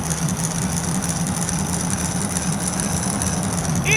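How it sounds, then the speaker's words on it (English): A toy LEGO car's engine drones steadily as it rattles down a track, with a constant buzzing hum that stays loud and unbroken throughout, with no talking over it. "It's rattling down the track. The engine is struggling."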